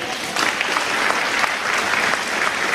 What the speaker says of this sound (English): Absolute round of applause for Jenny.